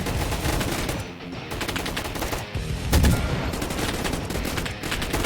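Rapid bursts of gunfire from a Roblox gun fight arena shootout, with what sounds like twin shotguns firing in dense, continuous volleys and a heavier blast near the middle, loud throughout.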